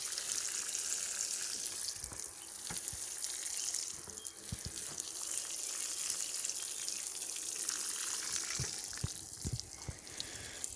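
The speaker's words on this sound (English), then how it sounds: "give them a good bit of watering here with this old paint can that I made holes in" Water pouring from an old paint can punched with holes onto vegetable plants in a garden bed, a continuous hissing, rain-like shower with soft patters and drips on soil and leaves, close and steady.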